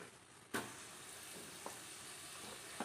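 Onions and shallots frying in a pan, a soft steady sizzle with a sharp clack as more go in, then a couple of light stirring taps, quiet and without talk.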